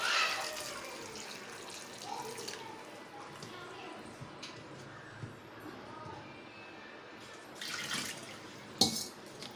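Water is poured into a cooking pot over peas being readied for pressure cooking in a home kitchen, a soft continuous splashing wash at low level, with a brief sharper clink near the end.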